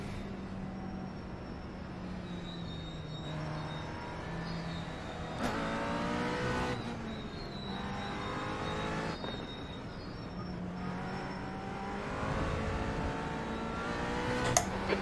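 GT4 race cars surging off the line at a race start on the Red Bull Ring in iRacing, a steady engine drone climbing through gear changes with repeated rising revs, loud and continuous throughout.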